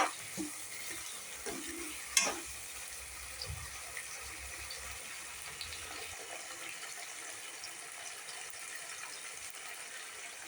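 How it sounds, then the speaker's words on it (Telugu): Onion, tomato and potato pieces fry in oil in a pan, giving a steady soft sizzle with a few stirring scrapes and clinks near the start, then a continuous quiet hiss. "ఆయిల్లో ఫ్రై అవుతున్నాయి అన్నీ"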